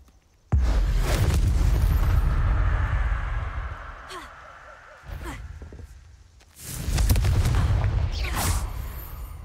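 A Confringo explosion spell in Hogwarts Legacy goes off with a sudden loud blast and whoosh, followed by fading rumble, a second quieter impact and another big burst of magical fire near the end.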